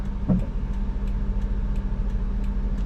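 A 2008 Perodua Myvi 1.3 EZi facelift automatic idles with a steady low engine hum and a faint regular ticking over it, fairly close and even, with no talk.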